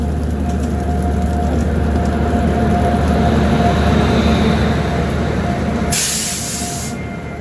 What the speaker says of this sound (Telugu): Gautami super fast express.